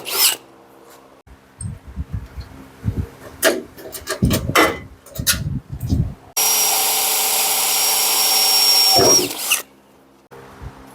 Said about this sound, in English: So this is an 1/8 inch drill bit.